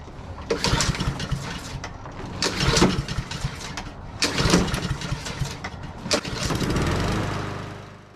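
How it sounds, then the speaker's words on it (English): A lawn mower engine sputters through several pull attempts, then catches and settles into a steady, close idle. "I'm going to put a little gas in the lawnmower, fire it up, let it warm up a little bit"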